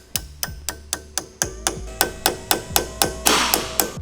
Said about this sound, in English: Tap in. Lightly tap.